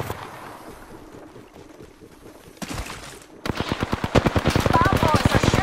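Rapid R99 SMG gunfire in the video game Apex Legends: quieter crackling bursts early on, then a loud, dense, fast stream of shots that fills the second half.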